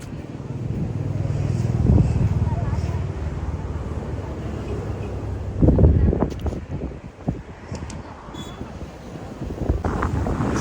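Wind gusts roar across a microphone on the sea face at Daman, a broad low rumble that swells and buffets, with a sharper blast near the middle and faint background activity.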